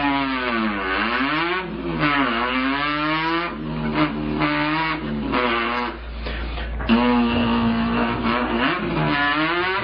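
A human voice imitates a car engine revving, rising and falling through several throttle blips and sustained high-pitched revs like a racing car, loud and close for about ten seconds with no other talk.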